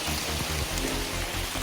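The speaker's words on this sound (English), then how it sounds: "There's something about it raining and being in a rainforest." Rain falling in a rainforest on the Blue Mountains in Australia, a steady dense patter and hiss that fills the whole clip at an even level, with no talk over it.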